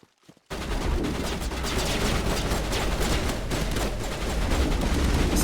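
Sustained rapid gunfire from a scout rifle in the video game Mass Effect, a dense unbroken barrage starting abruptly after a brief quiet moment and continuing loud throughout.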